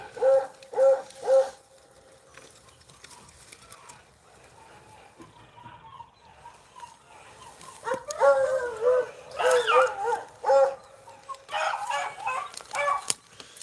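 A beagle pack chasing a rabbit bays in repeated bursts, a few rhythmic yelps near the start, then a busier chorus of overlapping bays and yips from several hounds at moderate distance.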